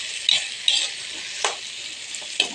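Eggplant, string beans and bitter gourd are stirred in a hot pan, with scraping spatula strokes at irregular intervals over a soft continuous sizzle.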